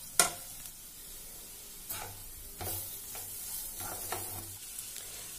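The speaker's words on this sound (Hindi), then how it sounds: "इसमें जो फ्राई किया है भिंडी उसको मिक्स कर देंगे।" Fried okra stirred into masala in a pan: a spoon scrapes and knocks against the pan in several separate strokes, with a soft sizzle underneath, close and moderately loud, no voices.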